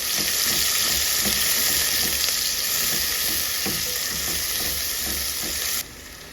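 Onions fry with cinnamon and cloves in hot oil for a dense, loud, continuous sizzle with faint stirring ticks underneath; the sizzle drops away abruptly near the end.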